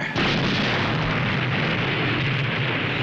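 A German tank gun fires at a bridge in a comedy TV scene, producing one loud, sustained roaring blast and explosion that fills the whole few seconds at close range.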